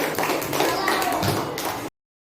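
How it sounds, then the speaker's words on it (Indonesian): Young classmates clap for a pupil named Resti in a classroom lesson. It is a short burst of scattered, overlapping claps with a voice mixed in, and it cuts off abruptly. "berikan tepuk tangan untuk Resti hari ini"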